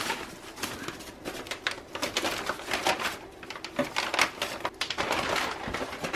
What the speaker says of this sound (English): let's start with unwrapping very carefully